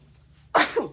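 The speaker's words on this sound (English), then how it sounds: "after I sneeze." A single sharp sneeze bursts out after a moment of quiet low hum, loud and close, with a brief trailing exhale.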